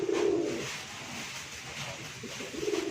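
Pigeons coo in a loft, low throaty phrases at the start and end with a steady murmur of background noise between.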